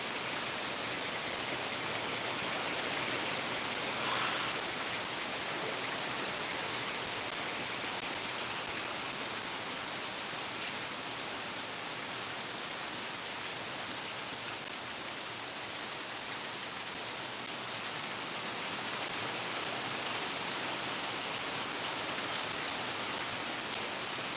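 Heavy monsoon rain pours at Amboli in the Konkan region as a dense, steady hiss with no breaks in intensity, close and enveloping throughout, with no voices.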